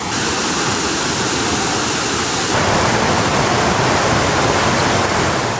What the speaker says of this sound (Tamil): தரைப்பாலத்தை மூழ்கடித்தவாறு காட்டாற்று வெள்ளம் பாய்ந்தது